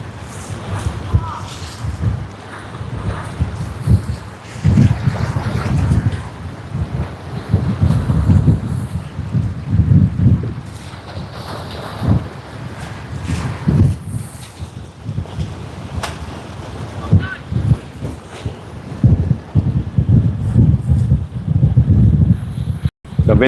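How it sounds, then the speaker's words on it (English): Strong gusty wind blows at the shore near Sydney Airport at high tide, buffeting the microphone in loud rising and falling roars, with surf and waves beneath. "The wind's getting crazier."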